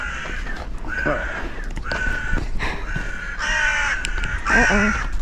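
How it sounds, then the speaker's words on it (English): Crows cawing an alarm outdoors near ancient stone structures at Giza, a string of harsh, repeated caws at moderate distance with some background noise and a trace of voices. "Uh-oh, the crows are sending the alarm."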